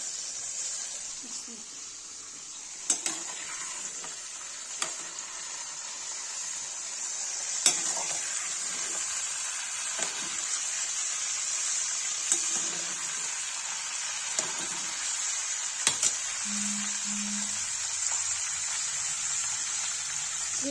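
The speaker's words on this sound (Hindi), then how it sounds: "गाइस देखिए लौकी फ्राई हो गई" Bottle gourd (lauki) fries in a pan, a soft continuous sizzle punctuated by sharp occasional clicks and scrapes of stirring, with a faint tone briefly near the end.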